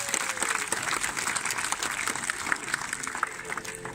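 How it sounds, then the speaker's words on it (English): An audience claps for sea lions at Blackpool Zoo after a training display, moderately loud scattered clapping while a voice talks over it. "So give them a big round of applause"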